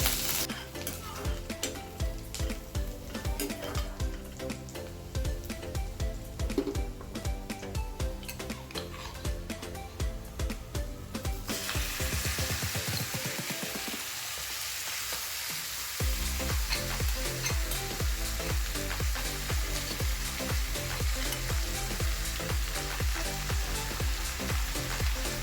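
Marinated mutton and onions fry in a pan with a dense, continuous sizzle throughout, broken by repeated stirring scrapes and clinks of a utensil, loud and close, with no talking.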